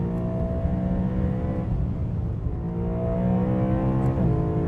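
A BMW M3 GTS engine revs hard under acceleration, a loud, steady, close mechanical roar whose pitch climbs and shifts near the end, with no talk.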